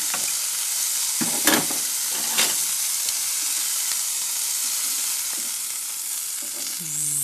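Food sizzles and fries steadily in a pan with a constant hiss, broken by a few stirring clicks and scrapes, close and alone with no talking.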